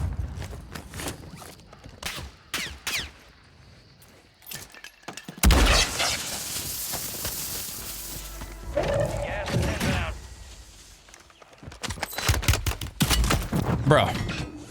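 Call of Duty: Warzone gunfights, with rapid bursts of automatic fire and single sharp shots, loud and near, broken by quieter gaps and mechanical clatter, mixed with talk.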